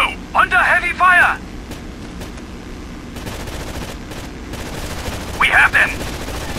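Heavy gunfire in the video game Rainbow Six Vegas rattles on as a continuous fast fusillade, with shouted voices breaking in over it at the start and again near the end.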